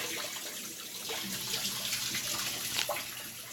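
A hose pours tap water into a pet python's tank, giving a steady, close rushing and splashing that runs on without pause and with no one speaking.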